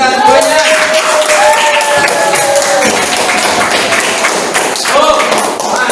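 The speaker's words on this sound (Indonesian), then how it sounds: "Tepuk tangan untuk kita semuanya." A classroom full of people claps enthusiastically, steady applause lasting several seconds with voices mixed in.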